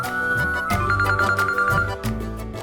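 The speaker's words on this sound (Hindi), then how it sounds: "लो जूही का फोन भी आ गया" An incoming call sets a telephone ringing in a Hindi TV drama scene, a loud, melodic ringtone repeating steadily at close range with no speech over it.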